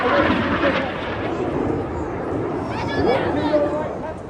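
Red Arrows jets at a seaside regatta air display roar steadily overhead in a loud, continuous jet rumble, with a commentator talking over the noise.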